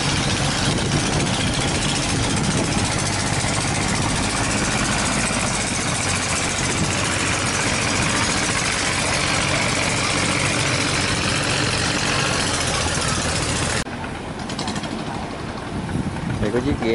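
Inboard engine of a composite-hull boat in the Mekong Delta, run hard at full throttle and smoking, roaring loud and steady before the tone shifts near the end; a voice speaks over it.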